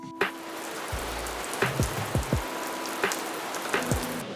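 Steady rain falling in Kuala Lumpur, Malaysia, a continuous wash of drops on surfaces with a few louder splats and drips standing out now and then, no voices.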